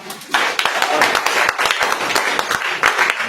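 A group claps together in a loud, lively burst of applause lasting a few seconds, with uneven rhythm and some voices mixed in.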